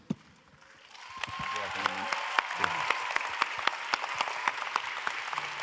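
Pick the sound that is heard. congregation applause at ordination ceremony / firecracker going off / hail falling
congregation applause at ordination ceremony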